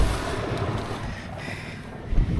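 Steady, roaring wind buffets the microphone with low rumbling gusts, loud and continuous throughout.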